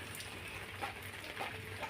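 Steady hiss of rain falling with wind, a soft continuous wash of drops with faint low rumble underneath, no voices.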